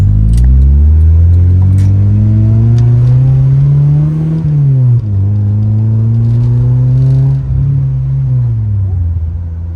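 A Honda Civic with a B20B engine revs loud and close, its pitch climbing through several accelerations with brief dips between gear changes.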